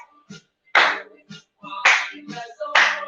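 Hands clapping high and low and patting the lap during a seated movement exercise set to a song, with several sharp, close claps and pats spaced in a loose rhythm, alongside brief bits of singing.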